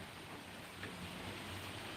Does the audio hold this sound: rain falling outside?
yes